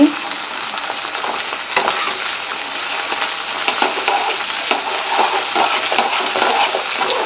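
Ghee hits a hot pan while vegetable dal cooks, setting off a loud, continuous sizzle with occasional sharp spatters and a brief louder burst partway through.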